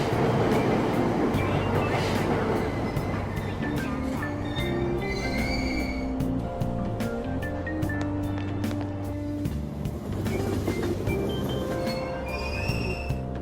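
Train departing a station in Persona 5 Royal, a steady loud rumble of rail car motion with tonal hum and chime-like tones layered over it, continuous throughout.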